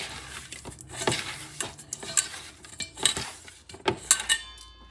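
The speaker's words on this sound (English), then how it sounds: "Mix things up a little bit" Shrimp and scallops being tossed with black pepper in a bowl, giving soft scattered clinks and taps of utensil against dish, fairly quiet and irregular.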